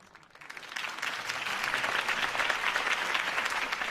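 A crowd applauds a campaign speech in a Batman video game, clapping swelling quickly from quiet into sustained, dense applause.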